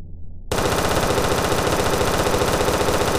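Video game gun firing after being bought, a sudden burst of rapid automatic gunfire that starts after a brief silence and continues loud and unbroken.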